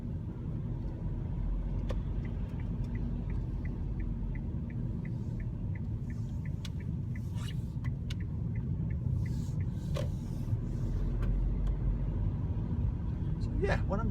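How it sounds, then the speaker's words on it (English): A Kia Rio Eco diesel car engine drones steadily while driving on the road, a low constant rumble with road noise and faint interior clicks, someone talking intermittently over it. "I put my foot on the gas, and you can hear that diesel"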